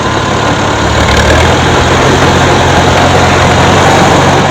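A 1953 Farmall Super C tractor engine runs steadily at raised throttle while spreading lime, a loud, continuous low rumble with an even mechanical drone throughout and no voices.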